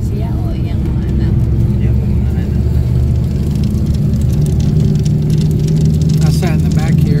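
A Ceres bus heard from a seat inside during a ride in the Dumaguete area, its engine giving a loud, steady low rumble and drone with road noise throughout, while a person talks over it.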